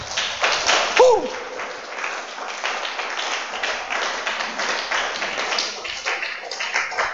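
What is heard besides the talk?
church congregation applause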